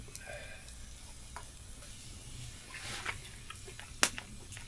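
Pork steaks fry over an outdoor fire on a snowy night in the Finnish wilderness, giving a steady, moderate sizzle with faint crackles and one sharp pop near the end.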